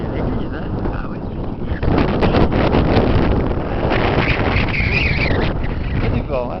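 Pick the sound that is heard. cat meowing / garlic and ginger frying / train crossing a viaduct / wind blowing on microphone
wind blowing on microphone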